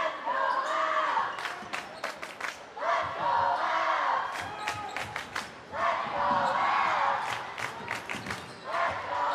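A loud gym crowd at a boys basketball 2A North Regional Championship against Hopi roars and cheers in repeated surges, with sneaker squeaks and brief lulls between waves of noise.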